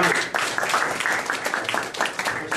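Applause from a church dinner audience, a dense spread of many hands clapping together at moderate loudness, steady across the whole stretch with no talk over it.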